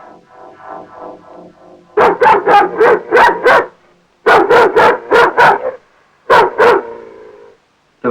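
Several dogs bark in loud, close bursts of rapid yaps and barks, with short pauses between volleys and a whining growl at the start.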